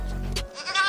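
A goat born with only two front legs lets out a short, close bleat, loud and nasal, that breaks off abruptly into a faint trailing cry.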